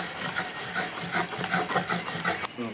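Cacao ground with oil into chocolate gives a repeated rubbing, rasping stroke in a steady rhythm, close and moderately loud.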